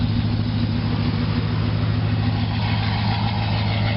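A 2011 Chevy Silverado 2500HD fitted with long tube headers idles steadily nearby, a deep, even exhaust rumble with no talking.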